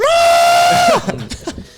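A human voice imitates the screaming engine of a Star Wars TIE fighter: one sustained, piercing wail lasting about a second that bends downward at the end, followed by brief speech.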